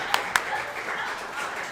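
Brief scattered clapping for a girls' flag football player, two sharp claps standing out early before a light patter of applause continues under a murmuring crowd.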